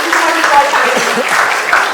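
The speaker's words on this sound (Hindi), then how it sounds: "जोरदार तालियां हो जाए." Applause from a press conference audience on a TV show set, a short, dense burst of clapping heard close, with faint voices mixed in.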